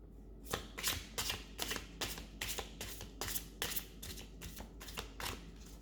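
A deck of playing cards is shuffled up close, making a steady run of crisp riffling bursts, each a quick flutter, repeating for several seconds with no talk.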